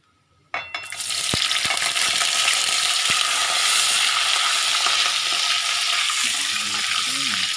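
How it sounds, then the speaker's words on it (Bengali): Potato pieces fry in a pan for a banana-flower dish, a loud continuous sizzle that erupts abruptly as they hit the oil, with a few sharp utensil clicks and stirring scrapes over the steady hiss. "আলুটা একটু ভেজে নিই।"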